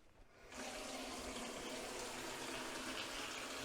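Hot water gushes from a tap into a bucket after a short pause, a steady rushing splash that continues evenly with no one speaking.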